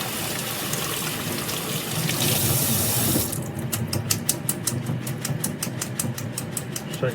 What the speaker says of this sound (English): put it into the basket, give it a good rinse